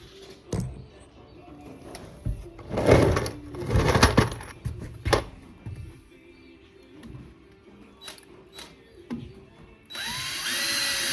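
Power drill driving construction screws into a wooden floor plate for a greenhouse shed, a few short whirring bursts with pauses between, close and moderately loud, followed by a steady high hiss at the end.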